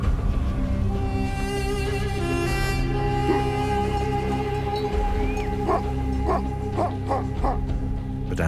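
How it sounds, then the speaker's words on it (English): Sheepdogs bark around a flock of sheep in a Middle Eastern desert setting: several sharp barks and yips cluster in the second half over a steady, dense background of animal and outdoor noise. "These dogs have grown up with this flock of sheep."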